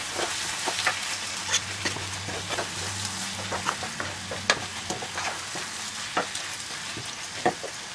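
Washed bulgur toasts in a hot pan with a pinch of salt, a steady soft sizzle broken by regular light scrapes and taps of the stirring spoon, close and alone.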